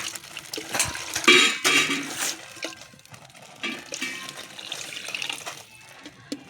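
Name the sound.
water poured into cooking pot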